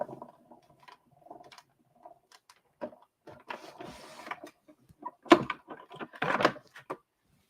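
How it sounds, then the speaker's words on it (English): A die cutting machine runs cardstock through in faint, scattered mechanical clicks and soft grinding bursts, close but quiet, growing a little busier toward the end. "run this through my die machine, and cut this out real quick here"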